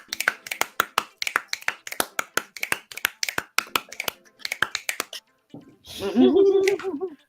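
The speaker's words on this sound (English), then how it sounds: "You know how you do snap, snap, clap?" A person making finger snaps and hand claps in a fast repeating snap-snap-clap pattern, crisp and close, then a short burst of speech at the end.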